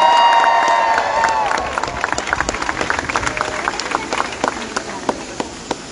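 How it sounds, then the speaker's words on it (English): At a UTSA cheerleader and marching band event, a crowd claps and cheers, a brief tonal note fading at the start, then a steady patter of scattered claps that gradually thins out. "Give him a round of applause."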